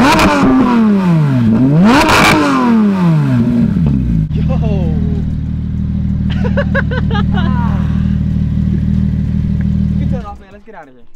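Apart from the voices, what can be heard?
Porsche GT RS sports car engine revving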